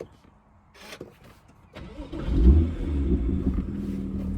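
A 2016 BMW M2 3.0i with manual gearbox (F87) cranks and fires up about two seconds in, settling into a loud, steady rumbling idle close by after a few quiet clicks and rustles.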